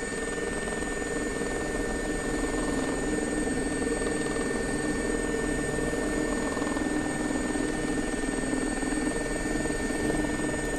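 A Gazelle helicopter in the X-Plane 11 flight simulator gives a steady, loud engine and rotor drone with a constant high whine running unbroken throughout, with no talking.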